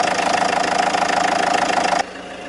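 A car engine with its diesel particulate filter removed runs at a steady idle, a continuous mechanical drone that drops to a quieter, softer level near the end.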